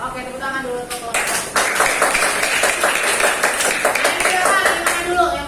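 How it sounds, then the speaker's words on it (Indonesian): Classroom applause for a student group after a science presentation, a round of quick claps from a group of pupils, fairly loud and close, with a voice talking over the start. "Oke, tepuk tangan dulu untuk kelompok."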